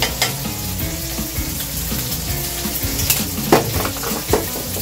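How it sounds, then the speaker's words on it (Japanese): Instant yakisoba stir-fried hard in a pan gives off a continuous close sizzle, broken by scraping stirs and a few sharp clinks of a utensil on the pan. "焦げるぐらいで炒めます"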